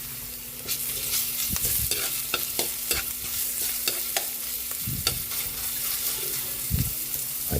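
Garlic sizzles loudly in a hot pan while a utensil stirs and scrapes it, giving a constant frying hiss broken by repeated clanking knocks against the pan.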